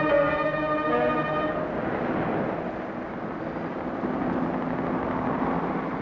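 A police helicopter drones steadily over a city, its rotor hum mixed with a broad rushing noise that slowly shifts as it passes.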